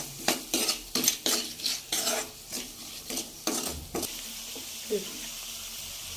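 Spices with salt, chili powder and garam masala fry in oil for palak paneer, with a run of sharp spoon clinks and stirring scrapes against the pan over a low sizzle, then quieter frying.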